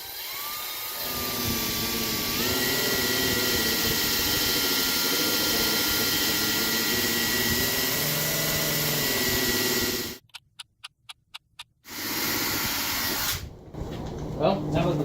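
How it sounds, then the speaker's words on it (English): A buffing drill polishes car headlights, holding a steady high whine for about ten seconds before cutting out into quick stuttering pulses and a short restart. "now comes the time to grab your buffing drill and just have at it"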